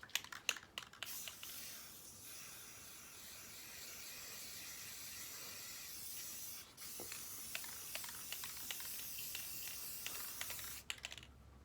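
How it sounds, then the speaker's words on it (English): Bursts of aerosol spray paint hiss onto a wooden board, long sustained sprays with short rattling clicks at the start and end, fairly quiet and close. "Now that I am done spray painting my board blue"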